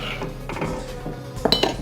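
A spoon stirs uncooked rice into water in a metal pot, giving soft scraping and scattered light clinks that sharpen near the end, close by with no talk.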